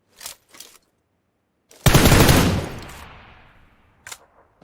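Gunfire in the battle royale game PUBG Lite on the Sanhok map: a few faint distant shots, then one loud close burst with a long fading tail, and another short shot afterward.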